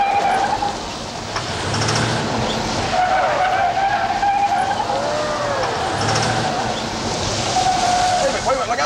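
A stunt car skids with long tire squeals over a rumbling engine, loud and close, the screech rising and falling several times across the run.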